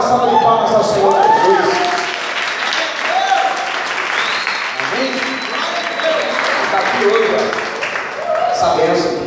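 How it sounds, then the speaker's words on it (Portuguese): A congregation at a church service applauds, steady dense clapping carrying on throughout while a preacher keeps talking and shouting over it. "Dá uma salva de palmas ao Senhor"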